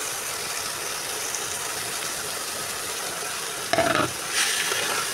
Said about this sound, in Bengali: আর এখন ধনিয়া পাতা আর আলু একসাথে অ্যাড করে দিব, দিয়ে ভালো করে নাড়াচাড়া করে দিব।